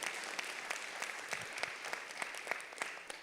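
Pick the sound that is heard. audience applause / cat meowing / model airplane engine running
audience applause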